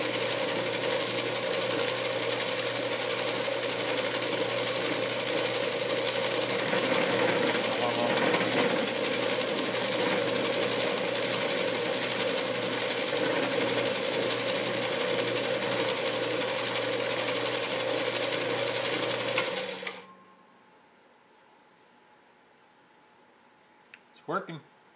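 A small lathe takes a fine cut with a cheap old Harbor Freight tool fitted to a shop-made tool post, giving a loud, steady, dense grinding whir that runs without a break and then stops abruptly near the end, followed by quiet and a few faint clicks.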